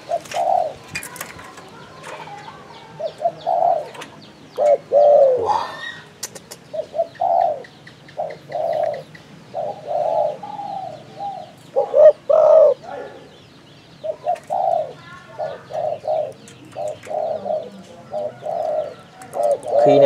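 A wild-caught male spotted dove from Phú Yên, Vietnam, coos close and loud in repeated rhythmic phrases, with a few brief wing flutters between the calls.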